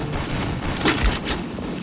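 Shotgun blasts in a video game, a few loud booming shots amid continuous dense gunfire and explosions in a busy game soundscape.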